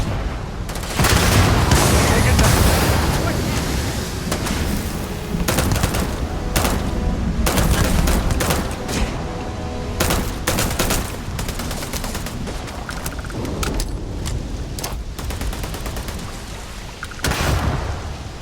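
Gunfire in Starfield, rapid loud volleys of shots crackling and booming for a long stretch, with bursts and single cracks tumbling over one another in a dense firefight.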